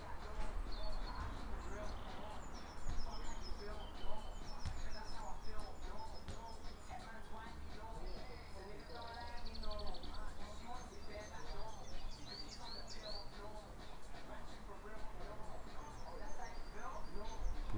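Birds chirp and trill outdoors throughout, with scattered high calls sitting over a steady low background and a calm voice talking.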